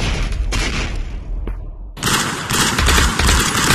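Rapid automatic gunfire in the Aim XR VR shooter, loud and close, breaks off in a short pause with a single crack, then resumes in a dense sustained burst.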